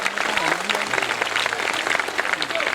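An audience at a Hindi kavi sammelan poetry gathering in Khariar Road, Odisha claps loudly and continuously. The dense, steady applause runs under a voice speaking over a PA.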